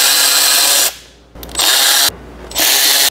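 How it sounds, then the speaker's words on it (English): Electric ratchet loosening bolts on a Whipple CL55 supercharger, three loud steady whirring bursts with short pauses between them, close up and with no talk. "this is an electric ratchet. It is not an impact ratchet"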